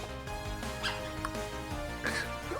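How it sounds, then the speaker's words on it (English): A bark-like creature cry from Pokemon Violet, short yipping calls over steady game music, a few brief barks rising above the melody. "Pommy's cry is like a bark."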